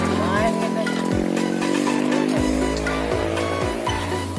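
A motorcycle with failed brakes runs loudly in a Sundanese village, its engine a steady droning roar with periodic downward-shifting revs. Background noise accompanies it throughout.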